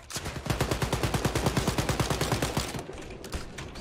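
Rapid automatic gunfire in the shooter game Wolfenstein: Youngblood, a loud, close, evenly pulsing burst of about two dozen shots that stops abruptly, followed by a quieter tail of game noise.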